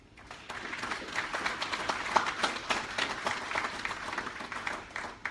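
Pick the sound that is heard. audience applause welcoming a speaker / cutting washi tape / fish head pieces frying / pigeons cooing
audience applause welcoming a speaker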